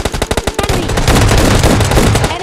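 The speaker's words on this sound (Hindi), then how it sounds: "मैं इधर कवर फायर लेके बैठ गया।" Automatic gunfire in the mobile shooter BGMI Lite, laid down as covering fire: a quick run of sharp separate shots that merges into a loud, sustained rattling burst, close and dense.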